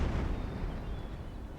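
Cannon artillery fire in the video game Empire Total War, a dense continuous rumble of booming shots, loud and sustained with no distinct separate blasts.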